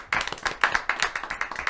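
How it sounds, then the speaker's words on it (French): A small studio audience on a French night-time game show clapping briefly, a sparse handful of distinct claps close by, irregular and short. "on va applaudir quand même"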